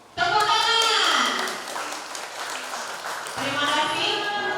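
Applause from wedding guests at a church ribbon-cutting by the mothers of the bride and groom, a steady wash of many hands clapping that eases off midway and then swells again.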